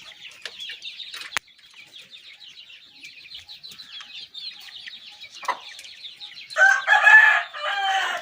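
Chickens chirping and clucking in a poultry coop continue steadily and close by, and a rooster crows loudly near the end over the flock.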